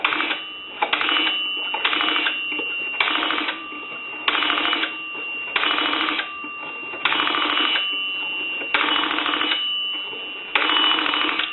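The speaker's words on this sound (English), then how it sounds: "I want to give you some dial tone. And then we want to dial some numbers" A chrome three-slot A&E payphone under repair plays a steady dial tone, then a string of dialled touch-tone digits as evenly spaced loud bursts, with a constant tone running underneath throughout.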